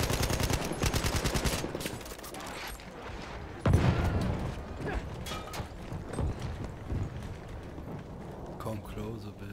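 Battlefield 1 gunfire: rapid automatic bursts crackle early, followed by a heavy shot and scattered rattling fire and mechanical clatter, mixed under excited talk from players.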